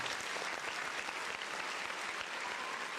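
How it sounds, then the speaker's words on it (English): Round of applause closing a sports mock-draft show, a short steady wash of clapping, fairly quiet and even across three seconds with no voices on top. "Another round of applause to you guys."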